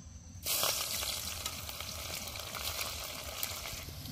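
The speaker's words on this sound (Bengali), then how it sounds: "এবার গরম তেলের মধ্যে দিয়ে দিচ্ছি পেঁয়াজ আর রসুন" Onion and garlic hit hot oil in a kadai and burst into a loud, steady sizzle after a brief quiet start, frying on evenly with a bright hiss and no talking.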